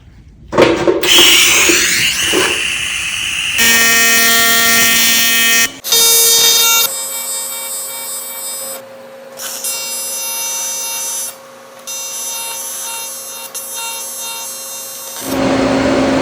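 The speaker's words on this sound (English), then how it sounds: "I'm gonna put a couple stitch tacks through this" Stitch tack welds go onto an all-aluminum cafe cowl fender light, a loud electric buzz with bright whining tones that starts and stops in several bursts separated by brief pauses.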